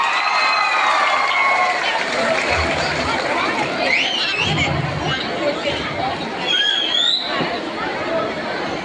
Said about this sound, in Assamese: এজাউৰি জোৰদাৰ হাত চাপৰি লাগে।